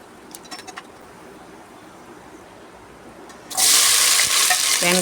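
Whole spices such as bay leaf, cinnamon, cloves, fennel and mace tempering in hot oil for biryani. After a quiet stretch with a few faint bird calls, a loud, close sizzling hiss bursts in and holds steady.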